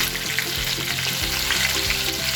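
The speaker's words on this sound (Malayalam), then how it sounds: "നമ്മൾ ചിക്കൻ കോരിയെടുത്ത് ബാക്കി ചിക്കൻ കൂടെ ഫ്രൈ ചെയ്തെടുത്തിട്ട്" Chicken pieces frying in hot oil for Chicken 65 give a steady, dense sizzle with soft crackling, continuous and close, with no voices.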